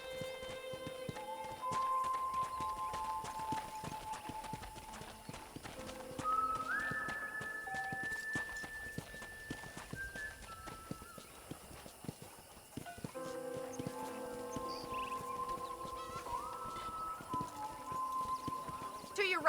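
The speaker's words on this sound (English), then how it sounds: "let's see if you can still ride a horse" Horse hooves clip-clop steadily at a riding pace in Red Dead Redemption, a ranch-country western game, with a horse's whinny, while voices talk over the hoofbeats and a soft score plays beneath.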